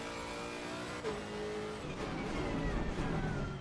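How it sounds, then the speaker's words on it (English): A race car engine in the sim racing game Assetto Corsa Competizione at Oulton Park roars steadily with a throaty growl and rising revs, loud and continuous without any voices. "the car sounds good, Sydney"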